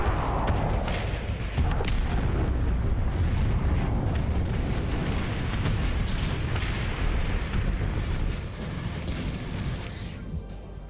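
Missile detonation in the space game Starsector, a sustained roaring blast with rumbling low end and crackling debris that holds loud for about eight seconds, then eases slightly as it fades.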